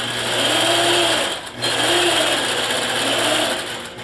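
Sewing machine stitching through quilt batting, a steady close mechanical whir in two long runs separated by a brief pause, over a persistent background hum.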